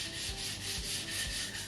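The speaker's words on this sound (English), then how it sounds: "I'll grab a block and a bit of sandpaper and I just try to make do" Sandpaper wrapped around a block rubbed by hand over wood, steady back-and-forth scratchy strokes repeating about every half second, close and continuous.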